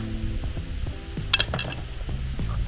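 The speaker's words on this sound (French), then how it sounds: "là on ouvre, on a du coup une poêle, on a les jeux de couverts" A Quechua camping cookware set being opened, with a pan and cutlery set clinking and knocking close by in quiet, scattered metallic taps and a brief rattle.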